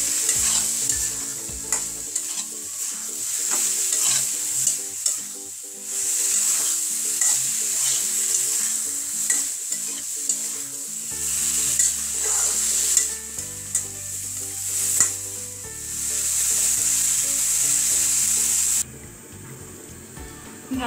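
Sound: stir-frying curry in a pan

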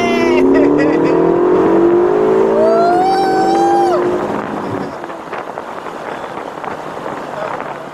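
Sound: Ferrari California T accelerating

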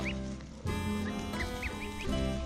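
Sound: mother goose giving warning call

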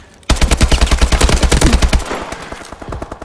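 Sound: AK-12 rifle gunfire in video game Call of Duty Advanced Warfare

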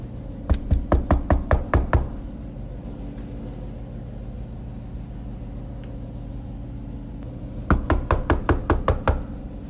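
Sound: knocking on a college dorm room door

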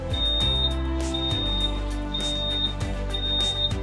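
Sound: beep of an automatic transmission fluid service machine after cleaning

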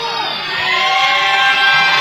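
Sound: wrestling crowd cheering and counting

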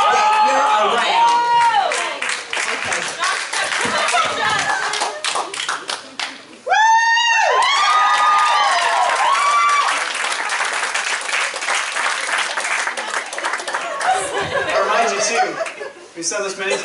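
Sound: audience cheering and applauding in church

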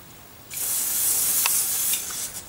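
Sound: spraying silicone grease onto rag

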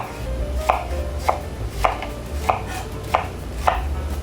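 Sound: knife chopping onion

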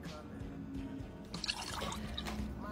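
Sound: water being spilled while drinking

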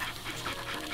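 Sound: little dogs panting in the video game Nightmare Ned

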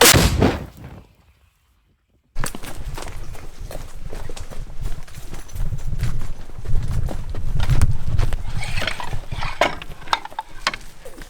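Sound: artillery gun firing

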